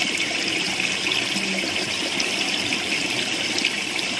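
Water rushes steadily in a small river stream where crabs live, a loud, continuous close-up gush and burble with no break.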